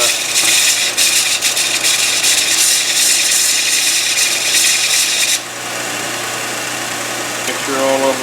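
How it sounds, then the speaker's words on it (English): Small sander rounding the nose of a forged butcher knife's steel, a loud, close, continuous grinding rasp over a motor hum that stops abruptly, leaving the sander whirring alone. "we're going to just round this on our little sander here"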